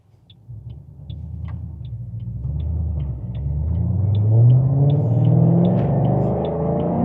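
Ford Mustang GT500 V8 heard from inside the cabin as the driver downshifts to second, a low steady rumble that swells and climbs in pitch as revs rise, with a faint periodic ticking above it.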